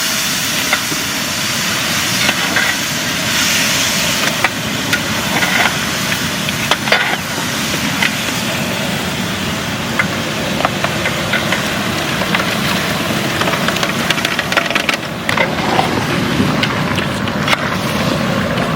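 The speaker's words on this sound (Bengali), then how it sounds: "এখন আমরা দিয়ে দেবো গোটা জিরে ফোড়ন" Whole cumin seeds sizzling in hot oil in a large pot for a village-style mutton curry, a loud, steady frying hiss with scattered crackles throughout, close up, with no talking.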